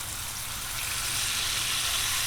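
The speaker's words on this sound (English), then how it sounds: "You can hear the sizzle, and this is where you get that beautiful sear, which the Smashburgers are famous for." Smashburger patties sizzle on a Blackstone griddle with a loud, steady crackling hiss that grows slightly over a couple of seconds. A low rumble sits underneath.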